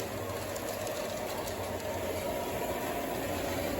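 A passing train rumbles steadily at a moderate distance, a faint continuous roar with low clattering, heard alone with no talk.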